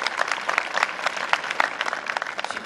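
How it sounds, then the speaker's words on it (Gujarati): A school farewell ceremony audience bursts into loud, dense applause, many hands clapping steadily and close throughout the short burst. "એકવાર જોરદાર તાળીઓના ગડગડાટથી આ સ્કૂલને વધાવીશું"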